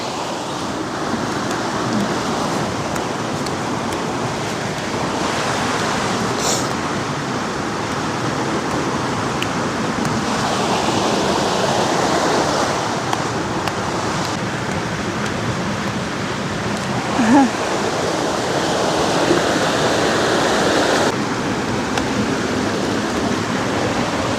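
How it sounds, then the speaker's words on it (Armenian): A small stream swollen into a large, fast river rushes past rocks in a steady, loud, broadband roar that holds constant with no voices over it. "Առվակը դարձել է մի հսկա գետակ"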